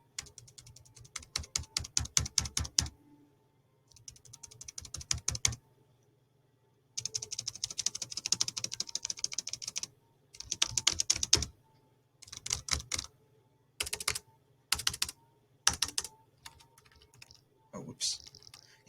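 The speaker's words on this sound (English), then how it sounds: "So a membrane keyboard, at least this is my laptop membrane keyboard." Someone types on a laptop's membrane keyboard in bursts of quick, soft key presses, pausing in silence between runs. The keys sound close and muted.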